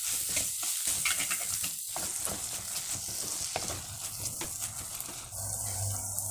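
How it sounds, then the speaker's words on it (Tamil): Small and large onions with garlic sauté in oil for a village-style Tamil fish curry, a soft continuous sizzle with intermittent stirring scrapes, close and fairly quiet. "வெங்காயம், சின்ன வெங்காயம், பெரிய வெங்காயம் எல்லாம் நல்லா வதங்கி வந்துச்சு"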